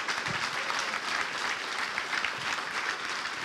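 Sustained applause from an audience at a Polish book promotion event greeting author Wojciech Sumliński, a continuous even wash of many hands clapping at steady volume.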